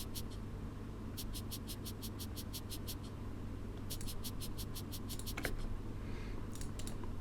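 Bursts of short, crisp shaker-like ticks in quick rhythmic runs, filtered and thin, over a constant low hum, pausing and resuming several times.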